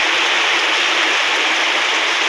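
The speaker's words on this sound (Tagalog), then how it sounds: "Maulan, yan, baha." Heavy rain and floodwater rush over flooded rice paddies in a loud, steady wash of hissing water, unbroken from start to finish with no voices.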